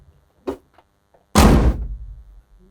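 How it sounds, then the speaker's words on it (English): The door of a 1963 Datsun 320 swings shut with one solid, heavy thunk, close and loud, preceded by a faint click from the latch. "Listen to this door."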